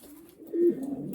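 Racing pigeons coo inside a loft, with one close, soft, low coo swelling in the middle, other murmurs around it and faint background rustling.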